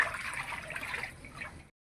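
Water poured into a container while making chekodi snack dough, a brief close gushing trickle that fades then stops abruptly.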